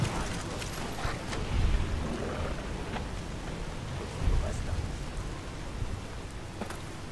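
Steady rain hisses over a broad wash of noise, with low rumbles of thunder swelling twice, all fairly loud and continuous, in the video game Fallout: New Vegas.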